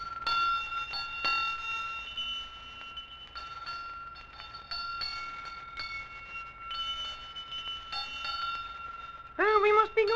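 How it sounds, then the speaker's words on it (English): Several bells ring out in overlapping tones to start a boat, some sustained and some struck repeatedly, followed by a loud whistle-like blast near the end. "I never heard so many bells to start a boat."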